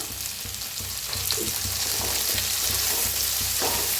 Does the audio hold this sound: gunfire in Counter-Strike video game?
no